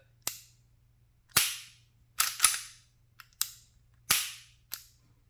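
Dry-fire trigger clicks from a Smith & Wesson Performance Center Bodyguard 2.0 compact carry pistol with a light trigger pull: seven sharp, close metallic snaps at irregular intervals, one quick double, over a faint steady hum.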